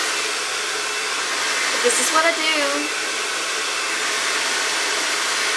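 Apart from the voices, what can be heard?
Rusk Speed Freak hair dryer on low hot setting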